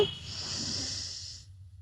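A single deep, steady breath drawn in through the nose during yoga pranayama, a close, breathy hiss lasting about a second and a half before stopping.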